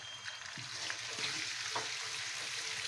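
Red lentil dal with red chili powder, salt and turmeric frying in a pan, a close, continuous sizzle with soft stirring scrapes and a few light taps from the spoon.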